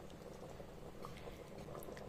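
Tamarind water boiling in a pot of mutton thalicha, a faint, steady bubbling simmer with soft popping, continuous and low in level, with no talking.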